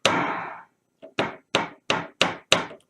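Synthesizer percussion patch set to a longer decay: one drawn-out opening burst, then five evenly spaced sharp hits, each ringing briefly before fading, alone and fairly close.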